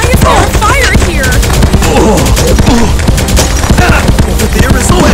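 Gunfire in the arcade video game Elevator Action Invasion, rapid staccato shots in dense bursts mixed with loud game effects and voice snippets, constant and close throughout.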